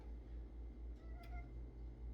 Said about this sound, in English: Hershey is just meowing